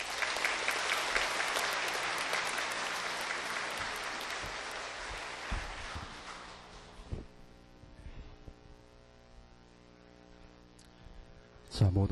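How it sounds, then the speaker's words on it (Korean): A church congregation applauds in a broad, steady wash of clapping as a guest speaker comes forward, dying away halfway through to a quiet room with low hum and a few small sounds. "나오실 때 한번 박수로서 우리 맞아주시기 바랍니다"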